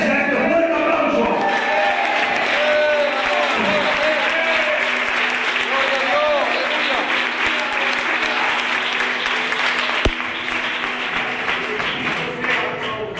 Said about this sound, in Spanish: y para Él sea este fuerte aplauso.